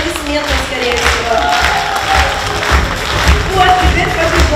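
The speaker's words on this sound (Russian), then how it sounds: "Видите, сила аплодисментов." A theatre audience at an anniversary oriental dance concert keeps up dense, steady applause throughout, loud and continuous, with some cheering under it and a voice talking over it.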